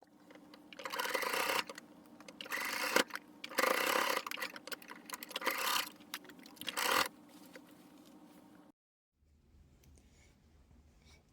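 A sewing machine backstitches and then sews a waistband onto a pair of pants, running in several loud bursts with brief pauses between them, close and free of talk, followed by a near-silent stretch with faint handling noise.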